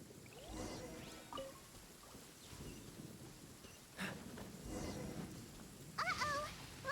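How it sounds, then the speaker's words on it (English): Rainy thunderstorm in a video game: steady rain hiss with low rumbling bursts of thunder and a few sharp bright effect tones near the end, fairly quiet. "Uh-oh! Lightning storm!"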